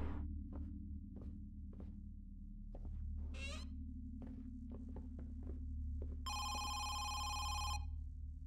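A telephone rings in the horror video game Home Sweet Home, a bright repeated electronic trill lasting over a second near the end. Before it come scattered footsteps and a brief creak over a steady low hum and throbbing drone.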